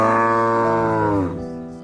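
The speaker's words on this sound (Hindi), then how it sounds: "उनके गाय कपिला जोर से रंभाने लगती है" A cow named Kapila lets out one long, loud, close moo, a deep drawn-out bellow that slides down and fades toward the end, heard alone.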